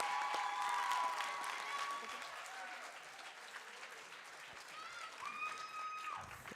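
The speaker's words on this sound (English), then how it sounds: "Let's give a round of applause for our lovely volunteers." Audience applause at a state FFA convention in Alaska, a steady wash of clapping from a large hall crowd that holds throughout and swells slightly near the end, with faint voices mixed in.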